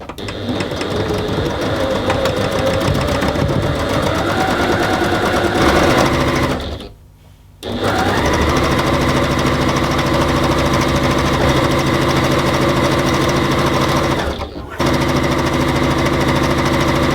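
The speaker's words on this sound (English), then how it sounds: "so I'm sewing that long seam and I'm nearly at the end of it" A sewing machine stitches a long seam in cotton lawn for an infinity scarf, a loud rapid mechanical chatter running continuously with two brief pauses, close up and alone.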